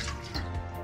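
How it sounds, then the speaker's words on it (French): Water poured onto flour for a pastry dough (détrempe) for a galette des rois, a brief close liquid trickle and drip, heard alone. "on va mettre l'eau par-dessus la farine"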